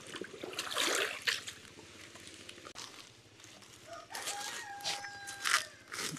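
Backyard chickens clucking and calling at feeding time, a busy flock close by with bursts of vocalizing, a rooster-like call, and faint trickling in the background.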